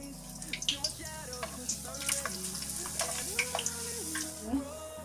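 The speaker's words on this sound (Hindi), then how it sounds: "अब इनको मैं सेक रही हूँ, फ्राई पैन में तेल डाल दिया है मैंने।" Potato papad frying in hot oil in a frying pan, a steady close sizzle with scattered crackles and pops.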